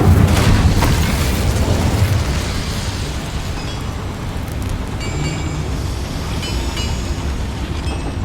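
A fire spell cast in the Hogwarts Legacy video game inside a mine erupts as a loud, booming burst that rolls into a sustained, roaring rumble, with faint metallic glints near the end.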